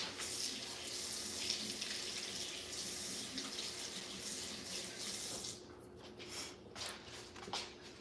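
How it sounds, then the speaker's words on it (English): Kitchen faucet running as food is rinsed under it during cooking, a steady close hiss of water for about five seconds that then breaks into splashy, uneven bursts as the item is moved through the stream, with no talking over it. "Let me rinse that."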